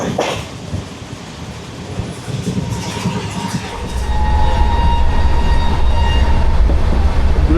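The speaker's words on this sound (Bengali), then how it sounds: "আমার ট্রেন এখন এনজিপি স্টেশন ছেড়ে ফালাকাটা স্টেশনের দিকে ছুটে চলেছে, আর খুব জোরে ছুটে চলেছে ভাই।" A fast train running from NJP station toward Falakata on the line to the Dooars, with steady loud rolling rumble and rail noise that builds and grows heavier after a few seconds, continuous throughout.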